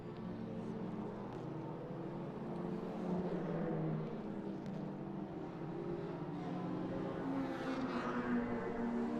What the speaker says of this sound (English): Great sound effects from it as he blasts down this main straight here at Mondello